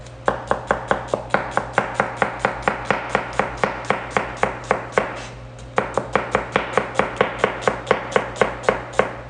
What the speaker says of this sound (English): So the first way you can slice this onion